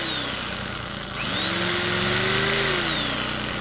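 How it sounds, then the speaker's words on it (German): An electric wood saw runs at its maximum setting on a DENQBAR DQ-2100 portable generator, dipping briefly and then ramping up into a steady, loud whine with a rising and falling pitch. "Maximale Stufe von der Säge."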